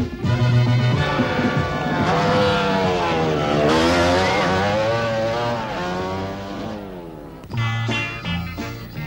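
A pack of early-1970s race motorcycles roars through town streets, engines whining loud and close with pitches rising and falling as the riders pass, and a fresh burst of revving near the end.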